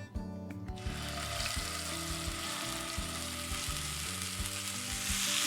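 Mashed green peas fry with spices in a pan, crackling and sizzling hard at close range, with scraping stirs that go on steadily throughout.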